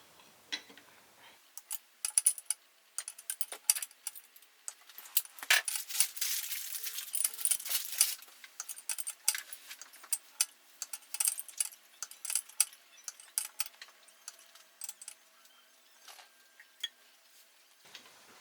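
Small metallic ticks, clicks and scrapes come close up as a titanium stud is loosened counterclockwise on a 4G63 engine, with irregular bursts of tool and metal contact and a brief rattling stretch in the middle.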